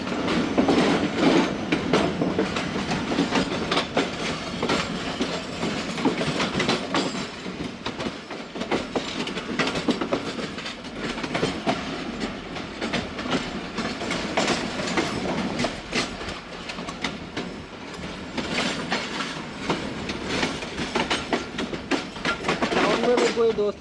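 The Tezgam Express passenger train rolls steadily along the tracks with a dense, continuous rumble and rhythmic clatter of wheels, heard close up from inside for the full stretch.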